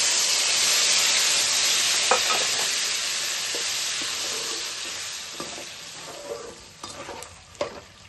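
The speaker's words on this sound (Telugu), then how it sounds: "చింతపండు గుజ్జును తాలింపులో వేసుకోవాలి" Loud, steady sizzling of wet tamarind pulp hitting hot tempering oil, gradually settling down with a few light clicks of a utensil toward the end.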